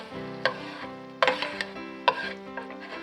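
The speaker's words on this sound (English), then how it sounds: "Scoop out all the onions" Caramelized onions being scooped out of a skillet, with a few sharp scrapes and clinks of a utensil against the pan over a soft, steady sizzle, close and quiet with no voices.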